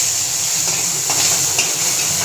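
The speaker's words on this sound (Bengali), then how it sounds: "দেখুন তেলটা গরম হয়ে গেছে। এবার আমরা চিংড়ি মাছটা ছেড়ে দেব।" Shrimp rubbed with salt and turmeric fry in hot mustard oil, making a loud, close, continuous sizzling hiss with a few small pops and crackles rising through it.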